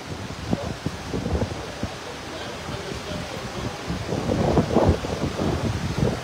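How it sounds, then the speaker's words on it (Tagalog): Strong wind buffets the microphone in steady roaring gusts, with low rumbling and faint voices underneath. "Malakas po ang hangin dito."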